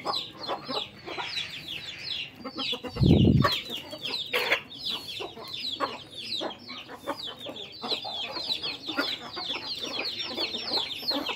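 Chickens on a village farm cluck steadily throughout, a dense run of close, overlapping calls, with one low thump partway through.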